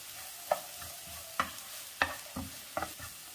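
A utensil scrapes and stirs chopped cabbage in a frying pan, with five or six distinct scraping strokes at an unhurried pace over a faint sizzle, fairly close and quiet.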